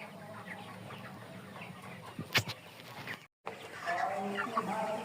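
Chickens cluck in a poultry shed, with scattered nearby calls and a sharper squawk, while a voice talks faintly in the background.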